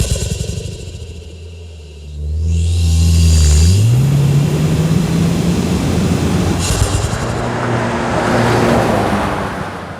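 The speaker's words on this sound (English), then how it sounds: "with that turbo also comes some insane turbo sounds" Turbocharged 4-cylinder engine of a 2024 Toyota Tacoma heard close up from the engine bay, a loud low drone that rises in pitch as it revs, with whooshing and whistling turbo noise swelling through the rest.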